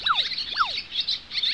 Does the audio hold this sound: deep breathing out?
no